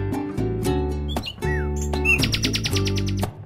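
A nightingale sings in bright chirps and whistles, ending in a quick run of repeated notes, over a children's music backing track.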